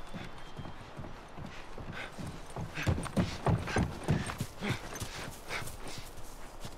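Hooves of a horse in The Last of Us Remastered: a quiet stretch followed by a run of loud, rhythmic clip-clop strikes that swell in the middle, then fade back to soft background ambience.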